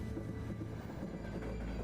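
Train wheels roll along the rails with a steady, faint, continuous low rumble and a humming drone, heard alone without any voices.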